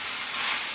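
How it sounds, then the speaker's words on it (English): A steady, close sizzling hiss of frozen vegetables stir-frying in an Instant Pot, continuous and even. "I'll keep stir frying till all the liquid is absorbed."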